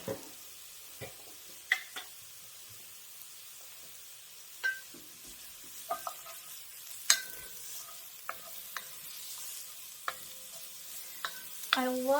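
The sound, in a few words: sautéing onions in oil in an enamel Dutch oven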